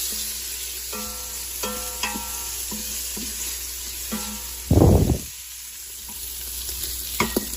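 Onions sauteing in a pot as the base for collard greens, a steady close sizzle broken by spoon stirs and scrapes against the pot, with one louder burst of crackle midway.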